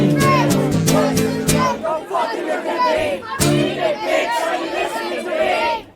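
A live concert crowd at a performance, a loud dense babble of cheering and chatter with voices and music-like tones sweeping through, close and continuous.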